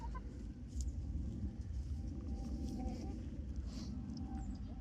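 Chickens in a farm chicken run, soft scattered clucks and calls at a moderate distance over a low rumbling background, with no talk during the clucking.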